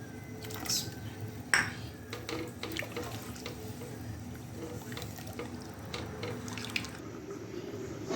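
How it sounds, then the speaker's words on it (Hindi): Rice with lemon juice bubbles in a pot of water for cumin rice, a quiet, steady watery churn with small clinks and splashes scattered throughout. "ये देखें माशाल्लाह से ये बॉयल होना शुरू हो गए हैं"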